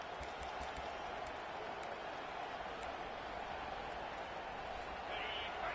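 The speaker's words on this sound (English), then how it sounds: "The roar of the crowd" A football stadium crowd roars steadily during a college game, a dense continuous wash of cheering that swells slightly near the end.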